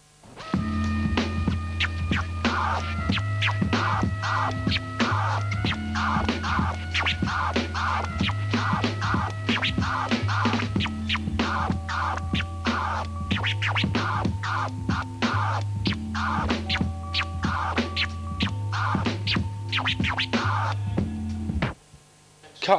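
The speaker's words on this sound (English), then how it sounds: "you remove the backspin and simply cut the record forwards using the fader to cut the reverse sound out" A DJ cuts a record forward on a turntable, using the crossfader to chop out the reverse sound, giving rapid rhythmic scratch bursts over a looping beat with a steady bass pattern, no talking.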